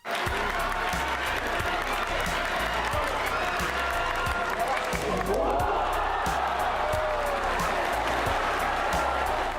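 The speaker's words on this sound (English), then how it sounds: "the Japanese crowds always let it known when you're seeing something special" A Japanese crowd at the Inter-High School Championship applauding a 10-second sprint by a 16-year-old, with steady dense clapping and cheering filling the stadium while a commentator talks over it.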